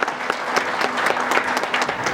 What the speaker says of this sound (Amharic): ሞቅ ያለ ጭብጨባ ለአርቲስት ብርቱካን።